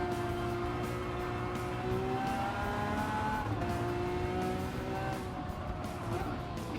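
Race car engines in Gran Turismo 7 drone continuously with shifting pitch, a loud steady roar of several cars together, with light tyre noise and no talk.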